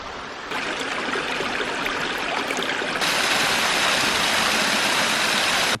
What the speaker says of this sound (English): Wow, look at that waterfall.